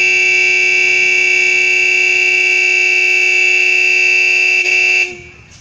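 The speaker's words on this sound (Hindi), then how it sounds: "ये हॉर्न है" A toy train in Shastri Park, Bharatpur, sounds its horn in one loud, sustained tone for about five seconds before it cuts off sharply, heard up close with no talking.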